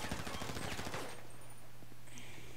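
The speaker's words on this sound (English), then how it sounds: "I can shoot the lockers open." Rapid burst of gunfire in a video game, fired at school lockers in an abandoned school to shoot them open, dense and loud for the first second, then fading into a low steady hum with faint clinks.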